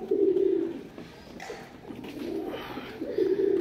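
Myna-beak pigeons coo in a pigeon loft, low throaty rolling calls repeating near and clear, two or three bouts with quieter gaps between.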